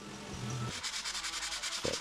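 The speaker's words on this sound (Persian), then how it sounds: "اول سنباده میزنیم" A parquet floor is sanded with a large floor sander, giving a rapid rhythmic scraping rasp that pulses about eight times a second, close and steady, with a short low thump near the end.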